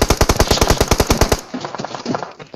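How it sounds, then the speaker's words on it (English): Rapid automatic gunfire in the mobile battle royale game PUBG Mobile: a fast, steady burst of loud sharp shots, followed by quieter scattered shots and rustling. "Now they're shooting me."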